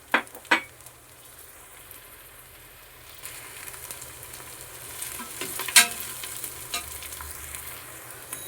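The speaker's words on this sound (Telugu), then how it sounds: "ఆనియన్ యాడ్ చేసుకుంటున్నాను. చిల్లీస్ యాడ్ చేసుకుని బాగా మగ్గించుకోవాలి." Onions and chillies sautéing in a pan, a low steady sizzle with a few sharp clinks of a spoon against the pan near the start and middle, close and moderately loud with no voices.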